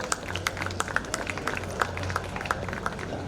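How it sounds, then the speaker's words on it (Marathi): A crowd applauds at a book release during a Marathi literary conference opening ceremony, producing faint, steady scattered clapping with no voices. "या शब्दशिल्पाचं आपण सर्वांनी टाळ्या वाजवून स्वागत करावं."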